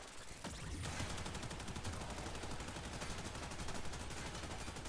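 Rapid automatic fire from the Soma incarnon rifle in Warframe, a fast, steady stream of evenly spaced shots held for several seconds, fairly quiet in the mix with no talk.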